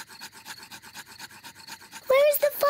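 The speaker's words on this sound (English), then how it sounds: "Daddy Pig is rubbing the two sticks together to light the campfire." Cartoon pig rubbing two sticks together to light a campfire: a steady rhythmic scraping, many quick strokes in a row, ending in a bright whistling flourish.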